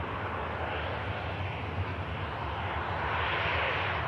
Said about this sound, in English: Ryanair just arriving. From Agadir.